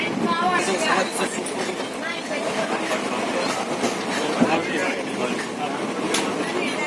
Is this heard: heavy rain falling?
no